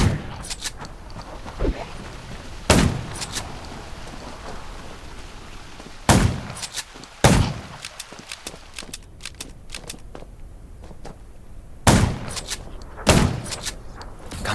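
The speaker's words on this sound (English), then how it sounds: "Gunshots." Several sharp, loud gunshot cracks in the game Undawn ring out at irregular intervals, some in quick pairs, over a low rumbling background.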